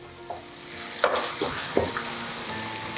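Ginger garlic paste sizzles steadily in a pan for a village-style egg curry, with a few sharp stirring scrapes and knocks breaking through the frying hiss.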